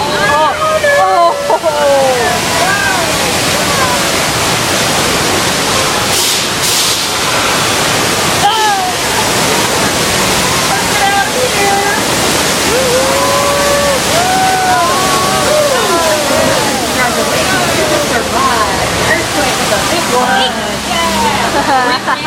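A water main break flood effect on the Universal Studios tour sends a loud, continuous rush of gushing, sloshing water close by, with a person talking over it.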